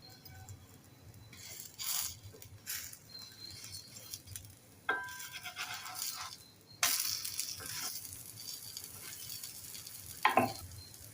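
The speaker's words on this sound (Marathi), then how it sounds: "वरून थोडं तूप घालूया दोन तीन मिनिट शेकून घेऊया" Radish-stuffed paratha roasting on a pan with ghee drizzled over it gives a soft, intermittent sizzle with occasional louder scraping or pressing bursts, fairly quiet and close, with no talking.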